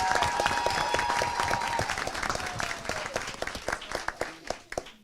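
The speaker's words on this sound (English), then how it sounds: "Let's give them a clap" A school board meeting audience applauds a junior high girls basketball team for its conference championship, a steady dense round of clapping that thins out toward the end, with a faint tone lingering early on.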